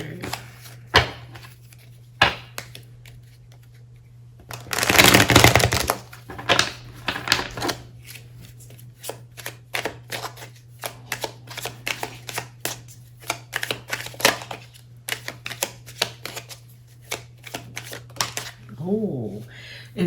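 Tarot cards shuffled by hand at close range: rapid clicking riffles with a loud dense burst early on, then scattered card snaps, and a brief voice near the end.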